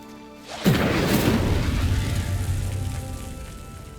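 Incendiary fire spell cast in Hogwarts Legacy: a sudden whooshing burst that ignites into a sustained, crackling roar, slowly fading over a few seconds, no speech.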